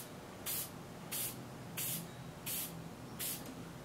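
Five short bursts of spray finish hiss onto a turned manzanita wood piece, evenly spaced about every seven-tenths of a second, each a crisp airy blast over a quiet background.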